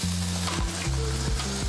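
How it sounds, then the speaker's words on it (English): Onions sauté in a pan with a constant dense sizzle, a low steady hum underneath and a few stirring scrapes punctuating it. "onions are sautéed and then drenched with unripe grape juice"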